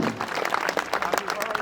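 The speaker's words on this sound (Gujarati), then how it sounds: "એ બધાને જોરદાર તાળીઓના ગગડાથી વધાવ્યું." Audience applause at a village temple idol-consecration festival gathering: a dense, steady wash of many hands clapping throughout, fairly close and loud.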